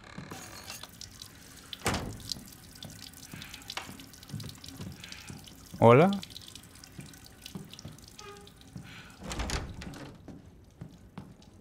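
Water from a tap runs inside a house in the game Resident Evil Village, with a brief hard splash in the middle and quieter trickling around it, and a voice speaking briefly.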